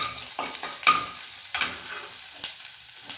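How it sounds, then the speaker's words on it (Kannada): Ginger and garlic frying in melted butter, with a steady soft sizzle broken by several sharp scraping stirs of a utensil against the pan. No one speaks. "ಸ್ವಲ್ಪ ಇದು ಫ್ರೈ ಆಗಲಿ."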